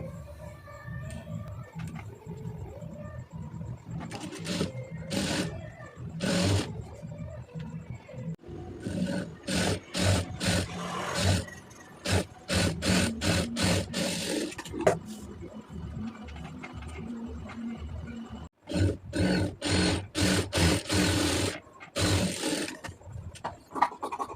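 A sewing machine stitches thread piping onto a garment sleeve, running in repeated short bursts of fast mechanical whirring separated by brief pauses, fairly close and loud.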